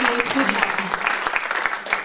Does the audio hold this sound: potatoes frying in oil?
no